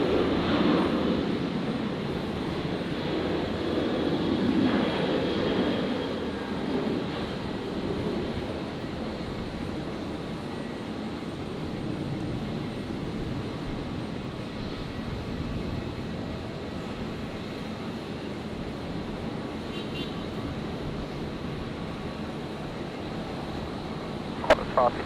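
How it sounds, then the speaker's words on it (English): Qantas jet on its takeoff roll toward rotation at Brisbane Airport, heading for Sydney, heard as a fairly distant engine rumble that is strongest early and then settles into a lower steady drone, with speech at times. "Qantas 555, just about to rotate"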